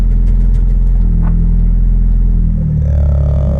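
A car engine, fitted with newly installed gauges, runs with a loud, close, low rumble and some light clatter, the pitch shifting near the end as the revs change.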